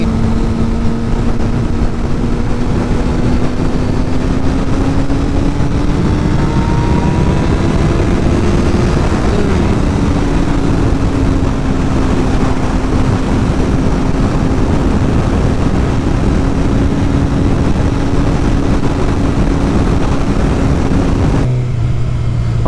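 Engine of a 2009 Suzuki GSX-R 600 motorcycle while riding, a steady loud drone with a slowly rising and falling pitch, briefly climbing under acceleration, heard close and continuous throughout with no talking.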